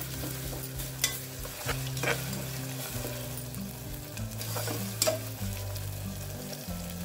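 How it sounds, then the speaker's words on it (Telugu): Ginger garlic paste frying with onions in a pan for mutton haleem, a steady close sizzle with stirring scrapes and occasional utensil knocks, no voices. "ఒక పెద్ద tea spoon ginger garlic paste వేసుకోవాలి. వేసుకొని దీన్ని కూడా ఒకసారి ఫ్రై చేసుకుందాము."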